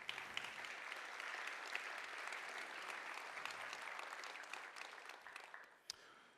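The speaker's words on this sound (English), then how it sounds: "Huge round of applause for our sponsors today." Audience at a vSaaS industry event clapping for the sponsors, a steady, dense round of applause lasting several seconds before tapering off.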